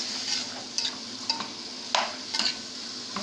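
Kebab halla meat being stirred in a pot with a spoon, giving a few soft scraping stirs over a low, steady sizzle, close up, with no talking.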